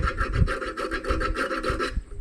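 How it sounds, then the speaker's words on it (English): A hand file rasps rhythmically across the end of brake line tubing, with about a dozen quick, even back-and-forth strokes, close and fairly loud, before stopping. "gently file that down a little bit. Not too much."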